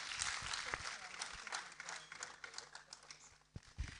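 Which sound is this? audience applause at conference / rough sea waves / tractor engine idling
audience applause at conference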